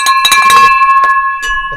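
A handheld bell rung close and loud, several rapid clanging strikes whose bright metallic tones ring on and sustain between hits, with a final softer ring after a short pause.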